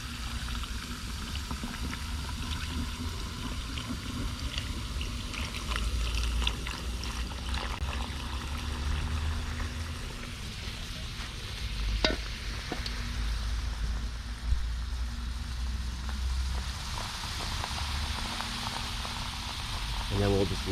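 A continuous fizzing and crackling of cleaning solution bubbling as it reacts inside a pool salt cell, with occasional small pops and knocks throughout.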